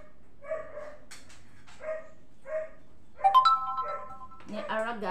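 Pet dogs waiting to be fed at home: a few short, sharp barks spaced apart, then higher whining yelps near the end, close by and against a quiet background.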